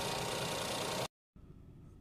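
A car engine running at idle just after starting, a steady broadband rumble that cuts out briefly, then returns quieter and smoother.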